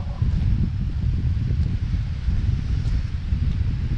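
Strong wind buffets the microphone with a heavy low roar and rumbling gusts, steady throughout, on an English peninsula in October.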